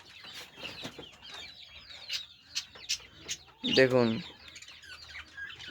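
Desi hens in a low-cost home-built cage give scattered soft clucks, then a louder burst of cackling midway, heard close under a man's brief speech.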